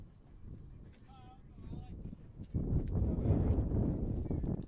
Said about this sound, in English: that wind's picked up really out of nowhere